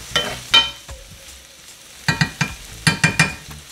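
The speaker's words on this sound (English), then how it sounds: "So we're just gonna let that saute just for a bit, like a few minutes" Seasonings and chopped scallion sautéing in a pot for Jamaican-style pineapple brown stew fish, with intermittent stirring clatters and soft sizzling bursts, close and moderately loud, no talking.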